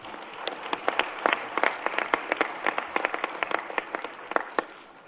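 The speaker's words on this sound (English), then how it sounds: "you can give them a round of applause" A conference hall audience applauds steadily for several seconds, dense clapping with sharp individual claps standing out, fading slightly toward the end.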